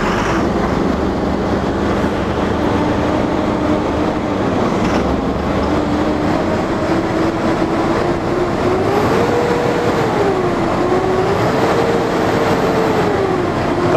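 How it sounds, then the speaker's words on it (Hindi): An Ashok Leyland bus chassis diesel engine runs steadily and loudly throughout, a deep continuous rumble with a faint whining tone rising and falling over it. "काफ़ी हैवी आवाज़ है इंजन की,"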